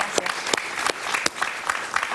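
Studio audience applause on a Spanish-language talk show, a dense burst of clapping with sharp individual claps standing out, steady and fairly close throughout.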